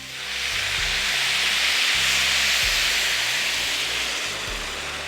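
Lamb curry with spices in a pot, a loud continuous sizzling hiss swelling up after a brief start and holding steady, close with no speech.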